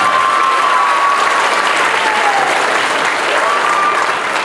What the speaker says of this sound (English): So if we could give her a round of applause